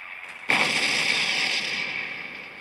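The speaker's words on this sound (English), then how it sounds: "Shooting him with these sub guns as much as I can." Secondary guns of an O class battlecruiser firing in a naval battle game: one sharp blast erupts abruptly, then a long bright rumbling roar that slowly fades, with no talk over it.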